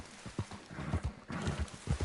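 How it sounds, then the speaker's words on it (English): Horse hooves gallop across the ground in a video game, a steady, fairly loud clip-clop rhythm of repeated thuds over a constant rushing background. "I got the best horse, so I finally get to ride around the map"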